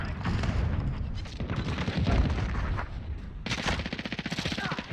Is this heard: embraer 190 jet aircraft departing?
no